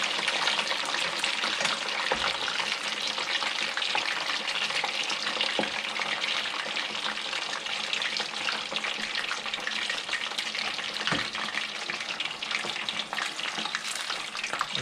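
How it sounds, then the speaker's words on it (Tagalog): Pork belly lechon kawali frying a second time in hot oil, a steady dense sizzle and crackle that runs continuously throughout with no talk over it. "So ipapry natin uli para lumutong siya lalo."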